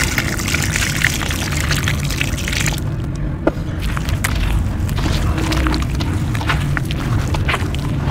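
Water pouring steadily into a cement texture mixture, a continuous close splashing flow with a brief dip partway through.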